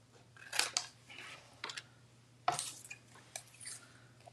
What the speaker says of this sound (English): Using my flap here, envelope flap as a guide, I'm just going to cut off